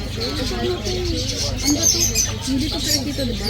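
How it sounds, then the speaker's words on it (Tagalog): Many lovebirds and parrots chirp and chatter continuously in a busy, noisy chorus, with people talking faintly underneath. "Ayun, mga ibon. Dami, lovebirds."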